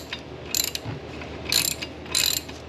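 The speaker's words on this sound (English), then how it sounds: "Let's get a wrench." A ratchet wrench clicks on a non-starting engine, three short bursts of rapid metallic ratcheting spaced about a second apart, close and fairly loud over faint background noise.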